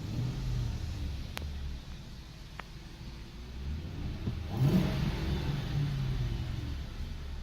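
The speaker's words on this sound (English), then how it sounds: "Throttle position, you can see that changes as I floor it." Car engine revving up as the throttle is floored, a steady mid-pitched rumble that swells and climbs partway through, heard from inside the vehicle with no talk.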